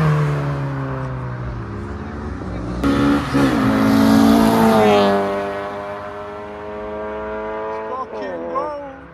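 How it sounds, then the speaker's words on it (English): Modified Honda Civic EK revving and accelerating away at a Japanese car meet on the streets of Reading, engine note climbing through several gear-like rises, loud and close with crowd chatter around it. "As it looks like John is about to head out on the EK."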